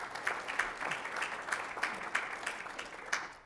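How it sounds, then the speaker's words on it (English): Light round of applause from a small audience at a college horticultural sciences event, scattered claps with a soft rhythmic pattern, fairly faint and continuous. "So big round of applause to Minty and her students."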